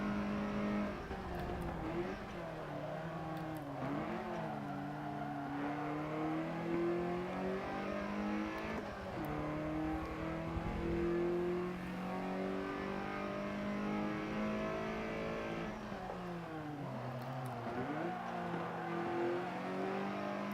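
Race car engine in the iRacing sim during a Daytona race, a steady high-pitched whine that climbs through the gears, dips on each shift and climbs again, continuous and fairly loud with no talk over it.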